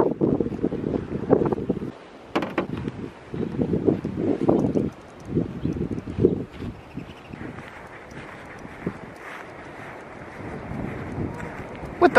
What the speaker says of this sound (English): Oh, this wind, it's brutal.